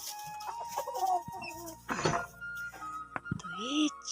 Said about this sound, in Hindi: ये है मेरी नई मुर्गी